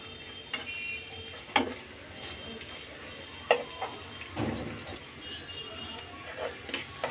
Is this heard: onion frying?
yes